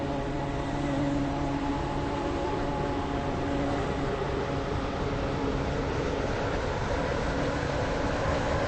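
Interior of a moving passenger train on a waterline service from Rosedale Village to Benton, a steady loud rumble and hum of the carriage on the rails with a constant droning tone and no break.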